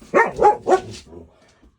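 A pet dog gives three quick, close barks in a row, loud and sharp, then a trailing softer whine that fades into quiet, with no one speaking.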